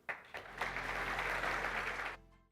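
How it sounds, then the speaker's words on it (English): A conference audience applauds panelists at a business summit, a dense, steady wash of clapping that rises quickly, holds evenly for about two seconds, then cuts off. "Please, can we have a huge round of applause for them?"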